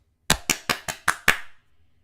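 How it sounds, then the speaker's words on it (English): A short burst of hand clapping, six sharp claps in a steady rhythm at close range, fading into a brief quiet tail. "Round of applause."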